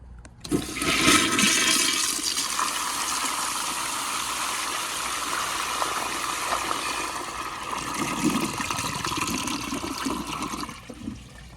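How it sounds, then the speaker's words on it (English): A 2000 American Standard Colony toilet on a flushometer valve flushes with a sudden forceful rush of water, a long strong swirling stream that fades to a trickle after about ten seconds, close and loud. "I'm gonna go ahead and give you a flush without that little part clogged"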